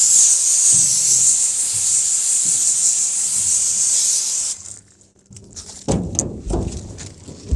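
Rubbing and scrubbing during cleanup in a shop after work on a military Deuce and a Half truck's parking brake, a steady close hiss-like rubbing for several seconds, then quieter scattered scuffs and knocks.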